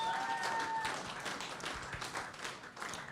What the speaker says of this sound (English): big round of applause for our 6 teams